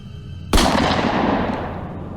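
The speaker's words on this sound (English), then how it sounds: "Then the gunshot." A single sharp gunshot cracks out loudly, followed by a long, fading reverberant tail.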